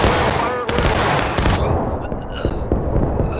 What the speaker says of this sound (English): Let's get a fucking volley off.